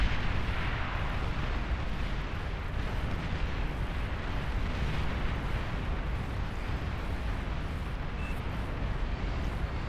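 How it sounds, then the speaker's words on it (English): A dense, continuous roar of rumbling blasts and booming explosions in the strategy game Beyond All Reason, loud and sustained without a break. "Oh, there's some big explosions."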